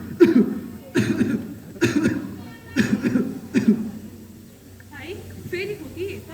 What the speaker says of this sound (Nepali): फेरि खोकी